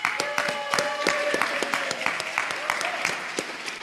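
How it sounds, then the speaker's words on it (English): A room full of Rotary Club members gives a round of applause at a meeting. It is a dense patter of many hands clapping at moderate volume, holding steady throughout. "another round of applause for Eric"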